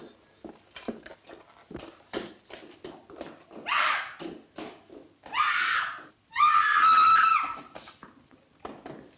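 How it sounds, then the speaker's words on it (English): A woman screams in an old horror film, a loud shrill cry rising out of rhythmic footsteps or hoofbeats and short bursts of noise, with the scream peaking near the end. "Who screamed? I did."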